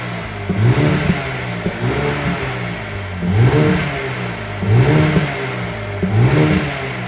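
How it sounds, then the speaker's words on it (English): A 2022 Mercedes-AMG CLA 35 exhaust with black tips revs repeatedly, four or five sharp rising blips spaced a second or so apart that drop back to a throaty idle between them, loud and close. "so let's see how the exhaust sounds like."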